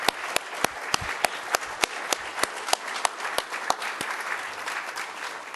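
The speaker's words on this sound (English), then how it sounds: "I just want the last round of applause for everybody." Audience at a conference closing session applauding, a steady stretch of clapping with sharp individual claps standing out near the microphone, moderately loud and continuous without talk.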